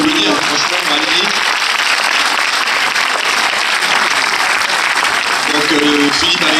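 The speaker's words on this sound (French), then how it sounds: "je voudrais vous applaudir, franchement, magnifique." Applause fills a film premiere screening for a French comedy, steady and loud from start to finish, with faint tonal voices or music surfacing briefly near the beginning and end.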